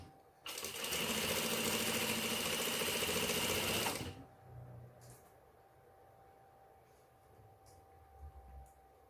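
A sewing machine stitches pants fabric in one loud, steady whirring run of about three and a half seconds, then stops, leaving faint handling noises and quiet room sound.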